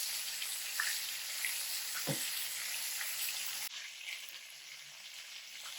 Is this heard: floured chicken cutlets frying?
yes